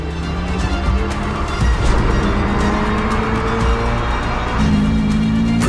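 A 2022 Subaru BRZ sports car drives past with a steady engine note that shifts pitch as it moves, loud and fairly close, with faint tire noise.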